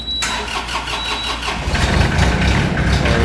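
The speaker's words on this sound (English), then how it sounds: "we'll fire up the tractor and take a look at what I'm talking about" An LS MT225s compact tractor's diesel engine cranks briefly after glow-plug preheating, then catches and settles into a loud, rumbling idle close by, with no talking.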